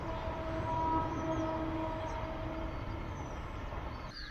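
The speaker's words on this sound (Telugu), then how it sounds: "అక్కడ ట్రైన్ కూడా పోతుంది, లోకల్ ట్రైన్." A local train rumbles past at a steady distance near Neral, outside Mumbai, a continuous low roar with faint tonal hums, no voices.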